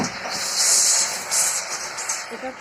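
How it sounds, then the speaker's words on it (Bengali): Water poured into a hot pot of prawn pulao, giving a loud steamy hiss that swells and fades in a couple of bursts, close up. "একটু পরিমাণ মতো জল দেওয়া হলো"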